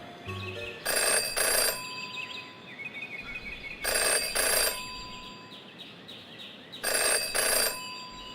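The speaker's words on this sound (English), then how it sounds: "Jenny had learned never to ignore a ringing phone" A telephone rings in the video game Jenny LeClue, three bursts of bright electronic ringing, each a double ring, spaced evenly over a quiet ambient backdrop.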